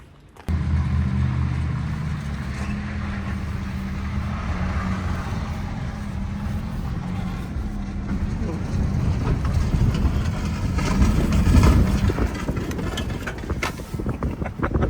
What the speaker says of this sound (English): So Tegan wants me to pull him out with my truck with the Integra